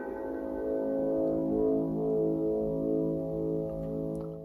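Statue sample reshaped in Logic Pro X's Alchemy sampler into a sustained, steady harmonic drone, thick with layered tones like a soft foghorn, holding level throughout and ending with a small click.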